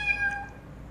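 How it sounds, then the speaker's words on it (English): A pet cat gives a single clear, drawn-out meow close by that fades away, in a quiet room. "That's my kitty cat."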